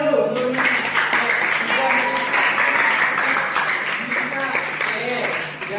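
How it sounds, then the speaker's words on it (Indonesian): Classroom applause from students during a coaching lesson, a steady run of many hands clapping at close range, with a teacher's voice briefly heard over it near the start. "kasih tepuk tangan dulu"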